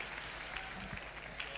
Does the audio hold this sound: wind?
no